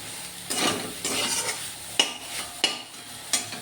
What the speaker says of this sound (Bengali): এবারে এগুলো একটু নাড়াচাড়া করে নেব।